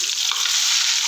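Leftover egg liquid poured into a frying pan after cooking mutton chops, a steady, loud, bright sizzle up close with no pauses and no talking.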